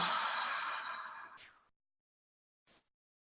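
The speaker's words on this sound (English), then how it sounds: "take a deep breath in and exhale" A deep, breathy exhale rolls out close and clear, then trails off into silence before a short, soft intake of breath follows.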